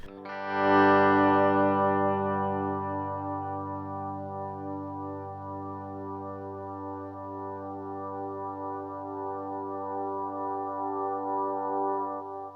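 A sustained electric guitar tone washed in delay from a TC Electronic Flashback 2 x4 pedal, swelling up quickly, then ringing on steadily and rising a little again near the end, with no talking.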